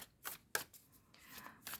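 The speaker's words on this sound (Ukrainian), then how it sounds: "Зараз я трошки потасую і витягнемо з вами якусь пораду нам з вами." A tarot deck being shuffled by hand, with a few quick riffling bursts of card noise, close and fairly quiet, with no talking.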